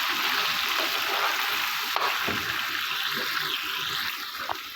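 Chicken frying in oil in a pot, a steady close crackling sizzle with faint clinks and scrapes, continuous throughout with no voices.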